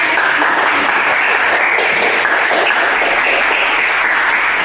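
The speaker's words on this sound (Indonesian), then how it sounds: "Kita berikan aplaus untuk penampilan presentasi." A classroom of junior high students claps for a group presentation, dense, steady applause close by at full loudness for several seconds.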